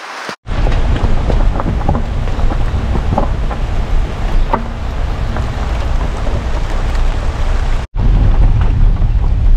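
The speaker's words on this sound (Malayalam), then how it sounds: "നല്ല മഴ." Steady heavy rain falls in a reserve forest at dusk along the Konni–Achankovil road, a dense close hiss with scattered drops and a faint low rumble like thunder, with no talking.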